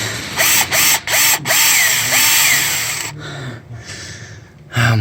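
A power drill bores out bolts on a 6.7 EGR, grinding and whirring loudly in short on-off bursts with ratcheting chatter, then pausing and revving up again.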